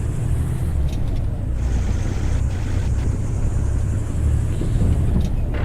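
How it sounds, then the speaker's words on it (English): Engine of a stock Kenworth W900 truck in American Truck Simulator, a steady low rumbling drone that holds constant and fairly loud throughout with no talk. "The engine sounds aren't bad,"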